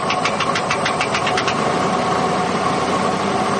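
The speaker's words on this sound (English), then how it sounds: "a rod knock on it. So you got that little bit of tap, tap, tap into it." A 1983 Ford Mustang GLX fox body with a 5-speed idles with a rod knock, a steady engine drone carrying a quick rhythmic tapping that stands out for the first second and a half, with no talking.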